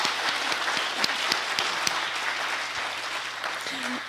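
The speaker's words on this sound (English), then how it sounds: "deserves a huge round of applause from all of us" Livestreamed church-community audience bursts into applause, a dense steady wash of clapping with a few sharper claps standing out, sustained for several seconds before easing slightly.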